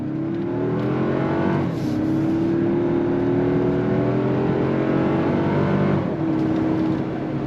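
A 2025 Toyota 4Runner with a four-wheel-drive drivetrain accelerates under throttle, its engine note climbing steadily in pitch with a brief dip at a gear change and another shift near the end, heard from inside the cabin with no talking.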